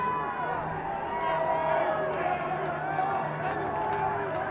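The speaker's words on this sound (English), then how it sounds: "Crowd reacting to the collision between Malcolm McDonald and Braxton Marion" Lacrosse crowd at a college conference game between Brigham Young and Colorado State roars steadily in reaction to a hard collision between players, a continuous loud babble of cheers and shouts throughout.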